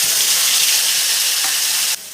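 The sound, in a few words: spice paste frying in oil with cumin and garam masala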